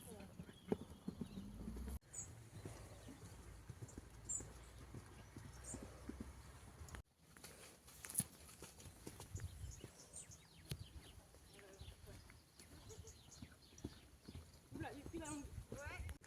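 Horse hooves clip-clop in a steady rhythm under a riding session, with faint talk and occasional birds in the background.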